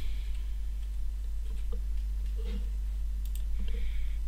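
Typing on a computer keyboard while a Spring Boot app's port is set in a browser, heard as faint scattered clicks and taps over a steady low hum.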